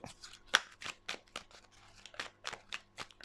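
Tarot cards shuffled by hand for a reading, a run of dry crisp riffling bursts and card snaps spaced irregularly, close and alone with no talking.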